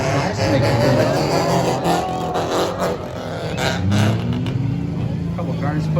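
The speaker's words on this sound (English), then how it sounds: "A couple cars putting the hammer down here. That was the 36 machine going on by of Justin Woodward." Race cars on a speedway during an enduro event roar past one after another. Several engines rise and fade with Doppler sweeps under steady commentary, and the sound is loud and close.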